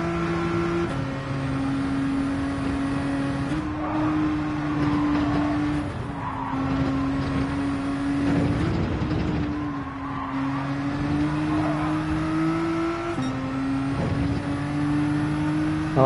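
A race car engine in Gran Turismo 7 drones at high revs while being held out in fourth gear, with steady pitch sweeps as gears shift, tyre squeal and a faint whine running continuously.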